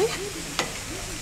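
Chicken frying in coconut oil in an iron kadai, a brief burst of steady close sizzling with a quick stir or scrape in the middle.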